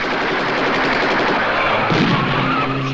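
Soldiers fire guns in a film battle scene, a loud, unbroken stretch of rapid gunfire and crackling shots that carries straight through.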